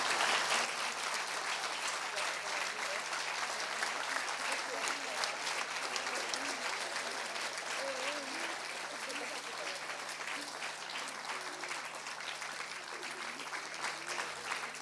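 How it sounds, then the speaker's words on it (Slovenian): Sustained audience applause at a Slovenian Culture Day celebration in Ormož, a dense steady clapping from a large crowd that continues throughout at an even level. "Veljalo bi jim še enkrat bučno zaploskati"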